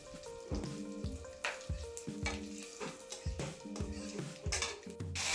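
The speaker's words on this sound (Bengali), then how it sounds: "এই যে গরম মশলাগুলো এগুলো তেলের মধ্যে আমি ফোড়ন দিয়ে দিব দিয়ে এখন বেশ ভাজা ভাজা করব এই গরম মশলাগুলোকে" Cumin and whole garam masala crackle as they fry in hot oil, a steady sizzle broken by pan and utensil clinks, with a tonal backing that sounds like music running underneath.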